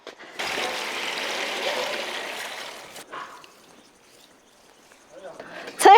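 Water splashes and trickles continuously over cut cauliflower soaking in salted water, then quiets, with brief handling noises and a short sharp sound at the end.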